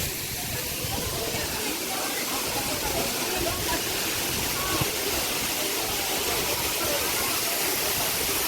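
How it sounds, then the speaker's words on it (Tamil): Durgapadu waterfall in Rayagada roaring as a steady, dense broadband rush of falling water among big rocks, constant and close throughout with no breaks. "இதாண்ட துர்கா பாடு வாட்டர் ஃபால்ஸ் செம்மையாக இருக்குது"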